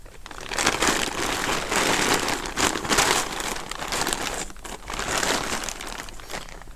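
Crisp crinkling and rustling of PVC cutting paper being pulled out of an envelope, close and continuous with uneven swells of crackle over several seconds.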